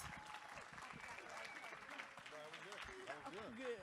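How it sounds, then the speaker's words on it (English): Applause from the audience at a hip hop and Black liberation panel: continuous crowd clapping, fairly distant, with voices talking and calling out over it. "Clap one more time, because they're with us"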